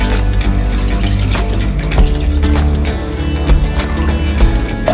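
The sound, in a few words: pouring milk for bread pudding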